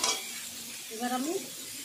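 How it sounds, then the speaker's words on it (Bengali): Thin-cut carrots go into a pan of frying potatoes in hot oil and are stirred, giving a soft sizzling hiss with scraping stirs and a brief tonal squeak midway. "সরু সরু করে কেটে রাখা গাজরগুলো দিয়ে দিচ্ছি।"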